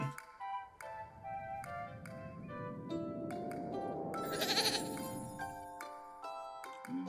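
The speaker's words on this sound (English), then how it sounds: "Oh, it's a little goat." A little goat bleats in the video game Little Goody Two Shoes, a drawn-out wavering cry rising and fading over a few seconds amid chiming tones and soft game music, no talking.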